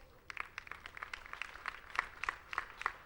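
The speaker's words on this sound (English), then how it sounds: "May I please ask jointly the leadership of Parliament from both sides to rise as we acknowledge them with a round of" An audience at a parliamentary building inauguration gives a round of applause for the parliament leadership, scattered claps building into a fuller, uneven patter heard at moderate distance.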